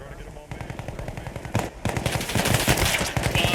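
Automatic machine gun fire in the milsim shooter Bellum rattles in long, rapid bursts. The volleys grow louder and denser toward the end, with distant shots layered underneath.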